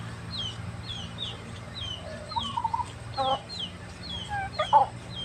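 Chickens cluck and chirp in short bursts, several birds nearby, with higher peeps scattered over a low background hum.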